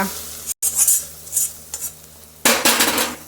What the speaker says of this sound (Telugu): ఈ పోపుని ఇంకా తోటకూరలో వేసేసుకోవడమే